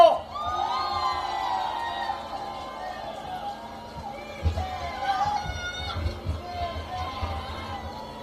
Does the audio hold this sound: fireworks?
no